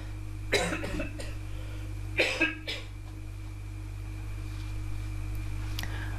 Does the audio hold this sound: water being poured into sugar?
no